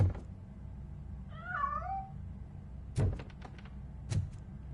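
A cat lets out a single wavering meow in RoboCop: Rogue City, clear and fairly near, followed by a few sharp knocks and clatters of a door or metal in an otherwise quiet space.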